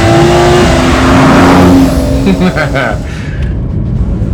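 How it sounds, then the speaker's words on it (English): A 2015 Porsche GT3 Cup race car's naturally aspirated flat-six revs hard and loud, its rising whine fading after about two seconds, with a voice talking over the engine. "That's a 2015 Porsche GT3 Cup car. That is a real race car with a naturally aspirated high revving flat six."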